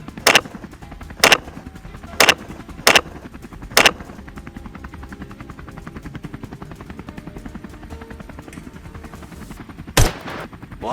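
Rifle shots fired at wild boars fleeing through a farm cornfield, five sharp cracks in an uneven burst followed by a lone later shot, loud and close over steady outdoor background noise.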